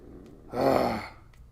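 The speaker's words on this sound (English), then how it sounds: "you can hear him snoring" A single snoring breath, a rough drawn-out rasp rising and fading, over quiet background noise.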